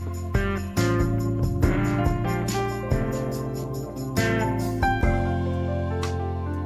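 Gospel-style keyboard jam on a GarageBand diatonic keyboard, with sustained chords and bass shifting through quick tempo changes, played alone with no talking and several sharp re-attacks across the phrase.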